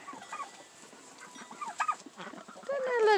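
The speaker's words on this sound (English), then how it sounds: "we are going to release the birds" Chickens clucking and squawking as they are let out of a coop in the morning, several birds chattering close by with a louder call at the end.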